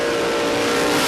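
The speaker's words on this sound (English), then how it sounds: "Holden Kingswood up against Andrew King in the Autobahn Hyperdome Ford Prefect" Drag racing cars, a Holden Kingswood and a Ford Prefect, accelerating hard at Willowbank Raceway in Queensland, producing a loud, dense engine roar with a steady high tone, close and continuous.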